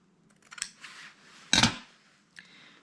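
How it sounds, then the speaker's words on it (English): Scissors snip through mint-coloured paper for a junk journal: a few close, crisp cuts, with one louder, fuller snip in the middle and a small final click. "Okay, so we'll cut a little bit of that off."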